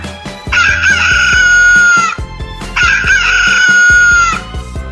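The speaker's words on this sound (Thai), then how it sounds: "เสียงของไก่" Two long, loud chicken crows, one after another, each drawn out for over a second over a faint busy background.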